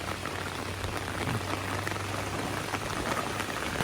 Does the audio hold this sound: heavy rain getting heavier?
yes